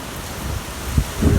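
Heavy rain from Hurricane Ida in Terrebonne Parish pours steadily as a dense, loud hiss, with gusty low rumbles of wind swelling toward the end.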